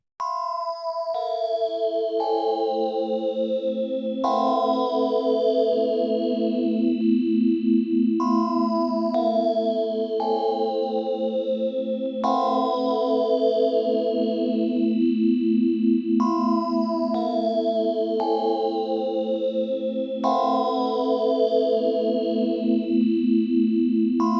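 Synth patch on the older Waldorf PPG Wave 2.2v plugin playing sustained layered chords with bright arpeggiated upper notes, loud and continuous with chorus-like shimmer and no voices.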